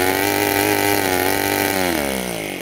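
A homemade 7cc two-cylinder Otto engine revving hard at full throttle, a loud, buzzing high-pitched whine held steady and close, then easing slightly toward the end.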